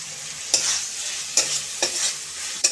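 A utensil stirs malabar spinach and taro frying with spices in a pan, making four distinct scraping strokes over a soft, steady sizzle. Close and clear, with no voices.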